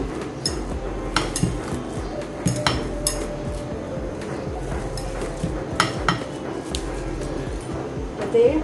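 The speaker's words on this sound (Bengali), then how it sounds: "একটু ঠান্ডা হয়েছে এখন আবার আমি ভর্তাটা কন্টিনিউ করছি" Chili bhorta being mashed in a pan with lentils, giving repeated clinks and scrapes of utensil against metal amid steady kitchen noise.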